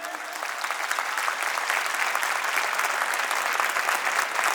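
A seated audience at a motivational class applauds a teacher's recited couplet, bright, continuous clapping that stays loud and steady throughout with no voices over it.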